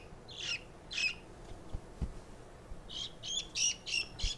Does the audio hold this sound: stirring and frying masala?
no